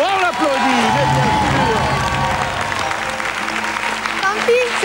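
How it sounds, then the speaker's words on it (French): TV game show studio audience applauding, a full burst of clapping and some cheering, with a host's voice speaking over it. "On l'applaudit."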